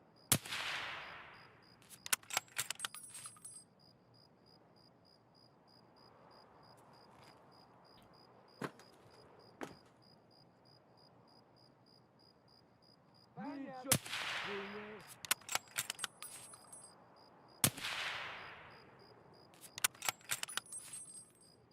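Gunshots crack through a wall in a shooter game, sharp single reports and short bursts with ringing tails spread across a quiet stretch, several loud clusters separated by near silence.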